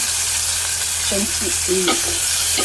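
Tomatoes and green chillies sizzle and fry steadily in a pan for a curry, with loud continuous frying and a few stirring scrapes near the middle, up close and without talk.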